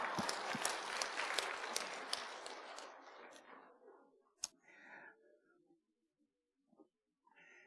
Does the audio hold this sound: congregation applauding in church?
yes